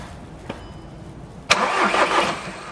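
A car engine cranks briefly, then catches and starts with a loud burst before settling into a steady, rough-sounding run, close by, during a car servicing job.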